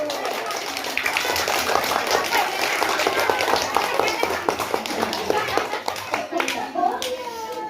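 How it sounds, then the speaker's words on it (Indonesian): Hands clap at a children's birthday party, a quick, uneven patter that runs steadily close by, with children's voices chattering throughout. "Oke, tepuk tangan."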